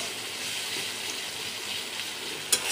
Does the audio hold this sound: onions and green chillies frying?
yes